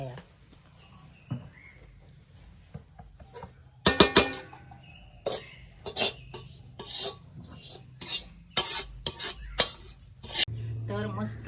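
A spoon scrapes and clinks against a pan in bursts of stirring thin poha chivda, with scattered clatter and some quiet speech in the background.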